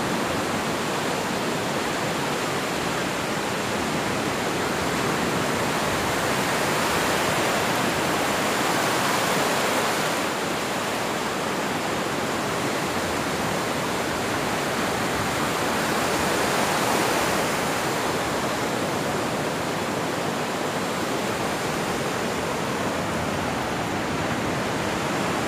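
Steady, dense roar of sea waves at a beach, continuous broadband wash with gentle swells in loudness, close and unbroken, with no voices.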